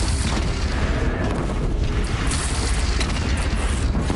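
A bridge is shot down in the video game Horizon Zero Dawn, collapsing in a loud, continuous rumbling explosion with deep booms and crashing debris that fill the whole stretch without pause.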